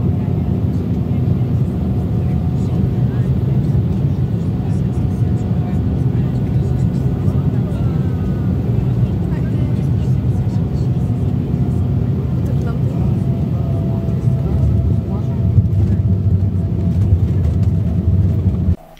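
Passenger jet landing, Bulgaria Air Airbus A220-300 or Embraer E190, heard from inside the cabin as a steady loud low engine and air rumble, with a slight bump near the end; a person talks over it throughout.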